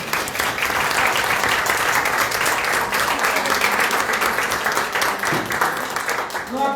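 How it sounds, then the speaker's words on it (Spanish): A lecture audience breaks into sustained applause, a dense, steady wash of many hands clapping at once that holds at full strength for several seconds before tapering slightly, with scattered voices mixed in. "Un aplauso."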